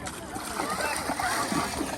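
Water splashing as children play in a pool on a beach day, short busy bursts of splatter mixed with nearby voices talking.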